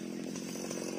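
Chainsaw cutting down a dead, dried-out golden-flowered acacia (tràm bông vàng) tree that had fallen onto a house roof; a steady, close, loud engine drone with a rising buzz near the end.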